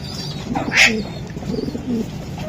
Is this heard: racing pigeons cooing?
yes